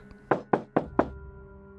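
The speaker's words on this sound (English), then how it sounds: "The thief knocked." Four firm, evenly spaced raps on a door, close and sharp, then quiet room tone.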